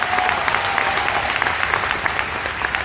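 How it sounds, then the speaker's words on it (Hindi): A crowd in a hall applauds Akshi Dutta with loud, steady clapping that fills the whole stretch, with no talk audible. "जोरदार तालियां नीचे अक्षी दत्ता के लिए।"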